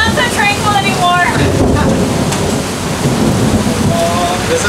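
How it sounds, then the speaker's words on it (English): A thunderstorm at sea off the Tuamotus, heavy rain pounding steadily on a sailboat with rumbling thunder underneath, loud and constant throughout. "Maybe this storm will just follow us all the way to Fakarava."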